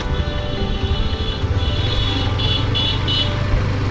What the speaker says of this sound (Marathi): काका कंटिन्यू हॉर्न मारतात